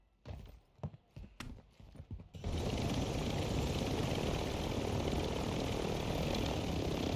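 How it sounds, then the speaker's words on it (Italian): Helicopter in a shooting video game, a steady close rotor-and-engine roar that kicks in abruptly and holds loud and unbroken, following a few sharp thumps and clicks at the start. "Vado di elicottero."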